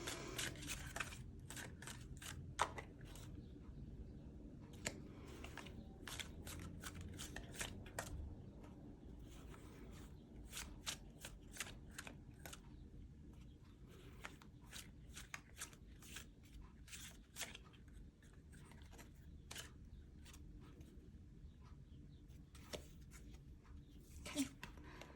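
Tarot cards being shuffled by hand for a reading, a long stretch of soft, steady riffling and sliding with occasional sharper taps, close and quiet, with no one speaking.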